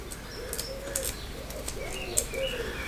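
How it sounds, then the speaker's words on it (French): Pigeons coo outside an open door, steady low calls just audible from outside, with occasional faint chirps and a brief flutter over room ambience. "J'ai les pigeons dehors qui chantent."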